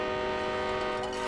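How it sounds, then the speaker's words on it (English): A train horn sounds in the distance as a steady sustained tone, with ambient noise from a high school football playoff game around it. "you hear the train horn down there"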